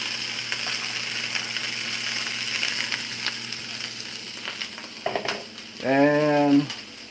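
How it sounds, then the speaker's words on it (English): Peppers and carrots stir-frying in a pan, a continuous close sizzle with occasional clinks and scrapes, ending with a brief sliding tonal squeal like a utensil or pan scraping. "since we are doing a stir fry, you want the harder vegetables first. So, the peppers and carrots."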